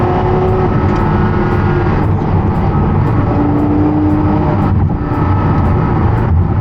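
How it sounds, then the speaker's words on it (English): A V10 race car engine roars continuously from inside the car in Los Angeles, revving and shifting through gears, with a dense rumbling drone throughout. "Getting to hear that V10 open up just a little."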